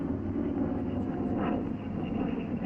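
A P-47 fighter plane glides in for a three-point landing with the throttle pulled back, a steady low engine drone with rough airflow rumble, continuous and moderately loud.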